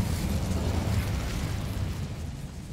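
A Bombarda exploding spell blast from Hogwarts Legacy, heard as a dense, sustained low rumble that stays loud before easing slightly toward the end, with no talk over it.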